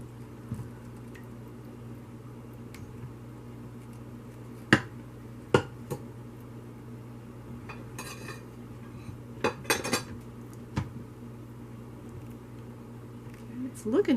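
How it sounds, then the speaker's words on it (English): A spoon stirs loaded potato soup in a pot, making a few sharp, scattered clinks and scrapes over a low steady kitchen hum. "Let's give that a stir."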